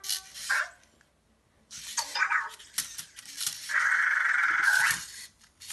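A Cozmo toy robot gives small electronic dog-like barks and yips in short bursts with pauses between them, ending in a longer, higher sustained tone, heard close and fairly quiet.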